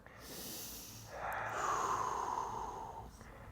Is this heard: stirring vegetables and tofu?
no